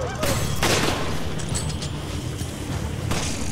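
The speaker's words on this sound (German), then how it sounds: "Ich schieße schon drauf." Bursts of gunfire from the video game Resident Evil 5, a steady rattle of shots with a couple of sharper blasts, loud and close, with game ambience underneath.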